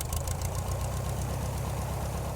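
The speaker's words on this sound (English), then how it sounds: "Basic engine, we hand prop to start." A basic piston engine on a tail-wheel banner-towing plane runs after being started by hand propping. It gives a close, steady, knocking idle throughout, with no voices.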